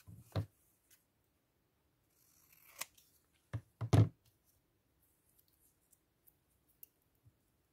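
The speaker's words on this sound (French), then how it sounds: "on va couper le coin, mais pas trop non plus" Scissors snip through the corner of a paper card in a quiet room, a short crisp cut followed by a cluster of two or three close snips, with faint clicks and handling noises between them.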